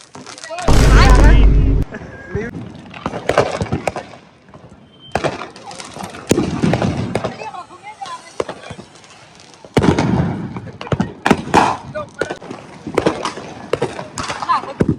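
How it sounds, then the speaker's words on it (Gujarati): Diwali firecrackers burst in loud, sharp cracks and crackling volleys, some close and some farther off, in repeated bursts over about fifteen seconds, with people's voices shouting among them. "ફૂલ ફટાકડા ફોડો"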